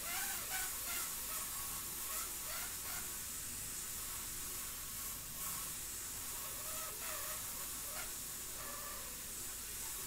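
An airbrush sprays pastel paint for a portrait at low air pressure, giving a steady faint hiss that runs throughout with a few slight flutters.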